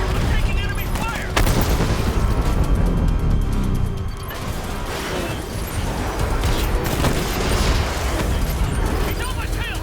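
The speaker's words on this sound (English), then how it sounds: "I'm taking enemy fire" Enemy gunfire in the Batman: Arkham Knight video game during a pursuit through Chinatown District, with loud bursts and booms mixed into constant vehicle and battle noise, with voices talking over it.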